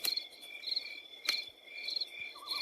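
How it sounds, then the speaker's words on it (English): Crickets chirp at night in a dark wooded area, a steady series of high pulsing trills that repeat close by and fairly quiet, with no other sounds intruding. "but only the mocking crickets talked back"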